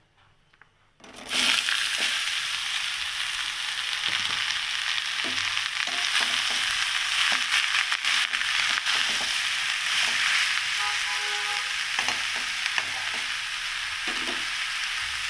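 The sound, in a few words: bori lentil dumplings frying and sizzling in oil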